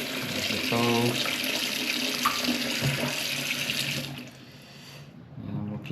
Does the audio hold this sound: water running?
yes